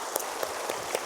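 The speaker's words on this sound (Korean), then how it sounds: "우리 뜨거운 박수로 환영하겠습니다" Applause from a church congregation welcoming missionaries at a Sunday service, a soft, dense patter of clapping with a few sharper claps, moderately faint and brief.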